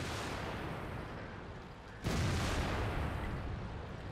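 Tank guns fire in World of Tanks, a sudden loud blast at about two seconds breaking into a dense, rumbling roar that lingers over a constant noisy battle background.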